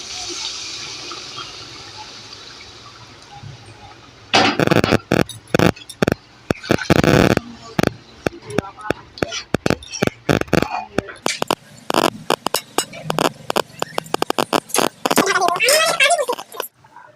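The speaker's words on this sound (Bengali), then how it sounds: "এবার জল দিয়ে দেবো" Water is poured into a pan of browned chicken for a chicken curry: after a quiet, hissy start, loud bursts of splashing and sizzling bubble up and continue unevenly to the end.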